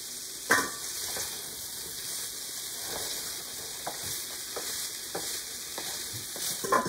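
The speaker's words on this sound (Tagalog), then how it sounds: "Pamisang-misang po hahaluin para hindi po masunog" Potatoes cook with butter in a covered pan, a steady soft sizzle running under occasional light scrapes and clinks of a utensil stirring them.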